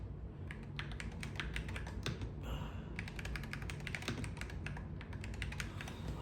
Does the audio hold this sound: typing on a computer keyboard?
yes